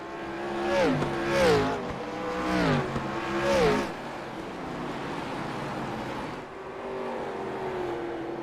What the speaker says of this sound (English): Currently 17 cars remaining on the speedway